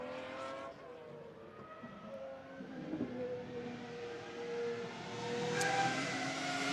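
GT race cars lap the Nürburgring circuit, engines droning from a distance with rising and falling pitch as they pass and shift, one growing louder toward the end.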